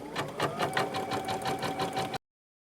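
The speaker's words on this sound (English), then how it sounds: "you're going to proceed to sew out the first color in the design, which is going to be our placement stitch" An embroidery sewing machine stitching a placement outline runs with a steady, rapid mechanical chatter for about two seconds, close and clear, then stops abruptly.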